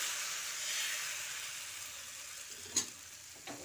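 Thin rice batter for neer dosa hitting a hot oiled tawa over low-to-medium gas flame, a steady bright sizzle and hiss with a couple of soft knocks from the pan toward the end.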